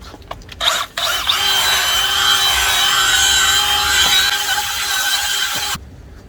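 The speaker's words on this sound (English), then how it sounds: "So I start with the cordless drill, dip it in there." A cordless drill spinning a polishing pad whirs steadily at high speed for several seconds, loud and close, starting after a couple of brief bursts and cutting off abruptly.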